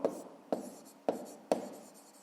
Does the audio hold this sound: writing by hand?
yes